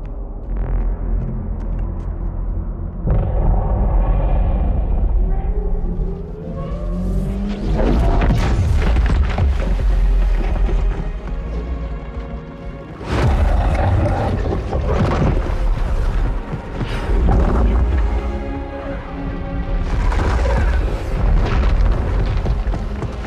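Heavy explosions and rumbling booms as the Covenant fleet fires in Halo 2 Anniversary, a continuous loud roar with deep bass that swells, eases, then surges again across the clip, with no talking.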